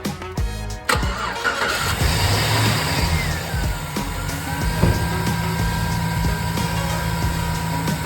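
A car engine cranks briefly and catches, then settles into a steady idle with belt-driven accessories whirring, heard up close right after a drive belt replacement.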